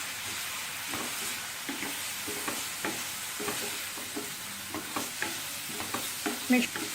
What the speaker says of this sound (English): Add a little bit of milk. I'm using full cream milk. And just saute this.